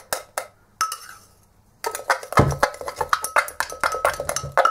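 Sarah Chapman Instant Miracle Mask being stirred into a paste in a small container, giving close, repeated clinking and scraping taps that pause briefly and then quicken into a steady rhythm.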